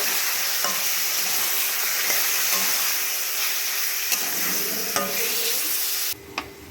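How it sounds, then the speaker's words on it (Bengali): Steady sizzling of chicken frying in hot oil, with occasional clinks and scrapes of stirring throughout, close by and fairly loud. "চিকেনগুলোকে একে একে ছেড়ে দেবো ভালো করে নাড়াচাড়া করে একটু ভেজে নেব"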